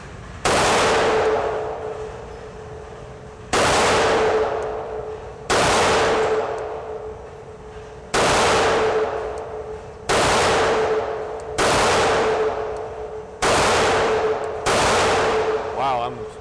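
A Polish Vis 35 pistol in 9mm Parabellum fires at an outdoor range, seven loud, sharp single shots spaced a second or two apart, each followed by a decaying echo.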